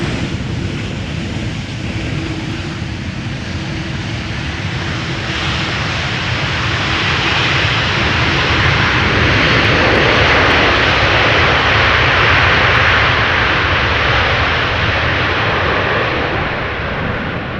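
A passenger airplane landing in a crosswind at Amsterdam Schiphol Airport, its loud continuous engine roar and rushing noise heard up close and swelling steadily over the whole landing.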